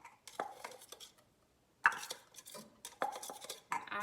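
A knife scraping chopped ginger and onion off a board into a pot with olive oil, sharp metallic scrapes and clinks in short bursts with a brief pause, close up and without talk.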